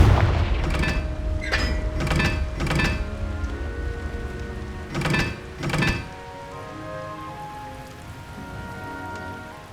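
Confringo fire spell explosions in the Hogwarts Legacy video game, several sharp booming blasts in quick pairs and triples over a steady crackling, rain-like hiss of game ambience.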